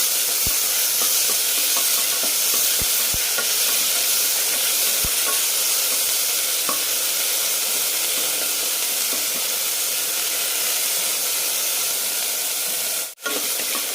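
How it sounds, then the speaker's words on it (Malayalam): Four green chillies sautéing in a pan for a roasted green gram curry, giving a loud, steady sizzle with scattered light clicks of stirring and one sharp knock near the end. "പച്ചമുളക് ഒരു നാലെണ്ണം കയറിയിട്ടിട്ടുണ്ട് നന്നായി വഴറ്റിയെടുക്കാം"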